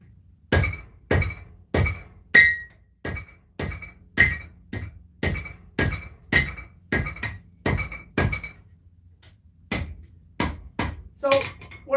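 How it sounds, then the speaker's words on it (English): A ball peen hammer rolls the spine edges of a hand-forged knife on an anvil, a long run of crisp metallic blows in quick rhythm with a short pause before more strikes, close and clear. "I need a ball peen hammer. Here we are."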